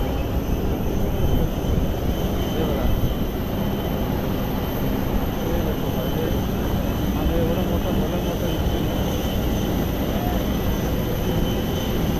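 Steady broadband roar of an airplane's jet engine at Delhi airport, loud and continuous throughout with no breaks.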